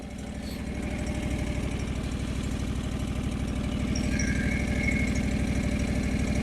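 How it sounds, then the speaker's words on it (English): A John Deere 445 garden tractor engine idles steadily with a close, even rhythmic chug, holding constant throughout with no talking over it, in a snowy setting with a snowblower attached. "Put the brake back on so I can leave the engine running."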